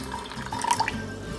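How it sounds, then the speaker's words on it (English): Water is poured into a bag of beef in carne asada marinade for jerky, giving a short, soft trickle and splash that is close and quiet. "I am gonna add a little bit of water"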